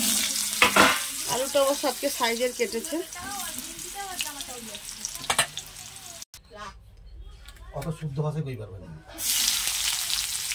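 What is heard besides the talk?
frying potatoes in oil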